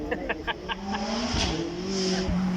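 A McLaren 675LT Spider MSO supercar drives past at a supercar weekend demonstration run, its engine note rising and shifting while a person talks over it and a few short clicks sound at the start.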